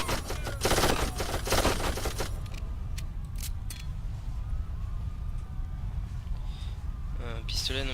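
Gunfire in the video game Darkest of Days as civilians are shot, bursts of shots up front in the first seconds, then scattered sharper cracks over a steady rumbling background with voices.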